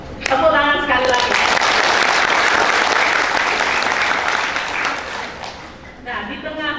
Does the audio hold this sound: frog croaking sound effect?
no